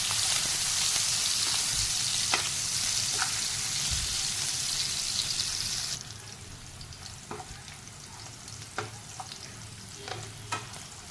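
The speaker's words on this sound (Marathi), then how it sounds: "आता एक डाव तेल घेतलेला आहे, त्याच्यामध्ये मोहरी आणि हिंग घातलेला आहे आणि कांदा आता आपल्याला चांगला गोल्डन ब्राऊन कलरवर परतून घ्यायचा आहे" Onion fries in oil with mustard seeds and asafoetida, first with a loud, dense sizzle, then a quieter crackle with scattered spoon taps and scrapes as it is stirred.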